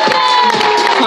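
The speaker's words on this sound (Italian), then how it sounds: "facciamo un applauso a un campione straordinario" An audience at a team presentation event claps and cheers for a player, a loud crowd roar with whoops and shouts layered over steady applause from start to finish.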